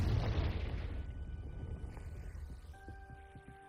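A Confringo spell explosion in Hogwarts Legacy booms loudly at the start, a broad rumbling burst that slowly decays into a low roar, followed by faint tonal magical chimes near the end.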